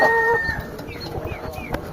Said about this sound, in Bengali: এটা বেশ বড় সোনালি মুরগি বেশ চমৎকার লাগছে